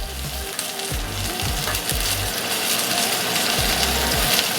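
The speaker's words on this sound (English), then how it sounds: "We got every edge seared nice and brown." Steak edges sear in a hot pan with a loud, continuous sizzle close by, a few low knocks and shifts of the meat sounding under the hiss.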